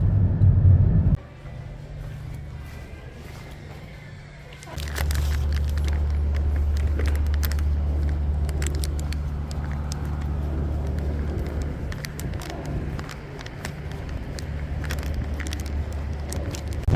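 A car driving a short stretch on a Las Vegas road, a steady low engine and road rumble with faint rattles throughout, after a brief quieter start.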